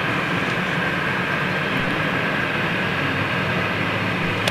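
A TAP Embraer aircraft at Cologne Bonn Airport, giving a steady, loud jet engine roar that stays constant and unbroken from start to finish, with no one talking.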